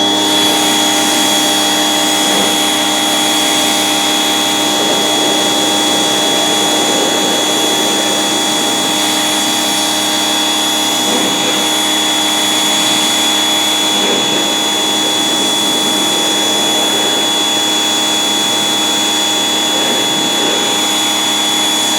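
Power washer spraying a car at 1500 PSI gives a loud, steady, close hissing roar with a constant whining motor tone that runs unbroken the whole time, with no talk.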